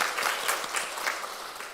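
A church congregation at a Sunday morning service applauds to welcome a new member, a brief burst of steady, moderately soft clapping from many hands.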